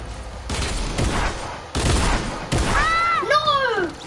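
Shotgun blasts in a video game during an online duo match, several heavy broadband bursts around a second apart, followed by a rising and falling electronic tone, loud and close over the game mix.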